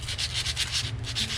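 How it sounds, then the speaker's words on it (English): Hand sanding a thick coating with 80 grit sandpaper, a close, rhythmic scratchy rubbing in quick back-and-forth strokes, about six strokes in a row. "Get this sanded down."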